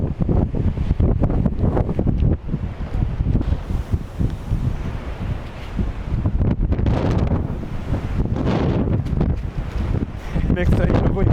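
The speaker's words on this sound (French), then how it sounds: "Il y a vraiment beaucoup de vent aujourd'hui." Strong wind buffets the microphone along the Côte d'Azur coast, a loud, continuous rumbling roar with gusty swells for the whole stretch, and a voice talks now and then under it.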